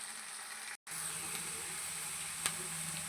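Onions frying in a pan for egg curry, a steady close sizzle with faint crackle throughout, a brief gap early on, no talk.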